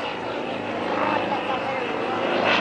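A Yak-55M aerobatic plane flying vertical spins gives a continuous propeller and engine roar that swells slightly, with a voice talking over it.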